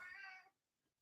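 A cat gives a single short, soft meow that fades to near silence.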